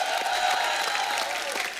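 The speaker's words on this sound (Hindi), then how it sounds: "जोरदार तालियां बाजी के लिए।" A studio audience on a television comedy show claps loudly and continuously, a dense crowd applause with some cheering texture that carries evenly throughout.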